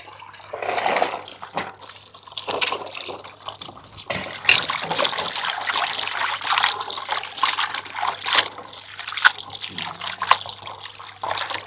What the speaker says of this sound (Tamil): இப்போ தண்ணியில் போட்டு நல்லா அலசி எடுத்துப்போம்.